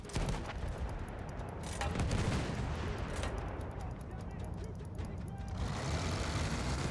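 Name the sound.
gunfire in video game Battlefield 1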